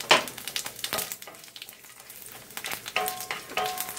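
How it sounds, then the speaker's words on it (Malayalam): Cumin, fennel seeds and dried red chillies sizzle in hot oil over low heat, a steady close crackle with sharper spatters near the start and again toward the end, and no talking. "അപ്പം ഞാൻ ഇതിലേക്ക് ആദ്യം തന്നെ നമ്മുടെ ജീരകവും പെരിഞ്ജീരകവും ഇട്ട് കൊടുക്കുകയാണ്"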